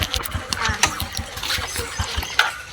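A motorcycle engine starts at a village wedding gathering, with rapid low, rhythmic pulses and a steady mid-range drone close by, plus faint background voices.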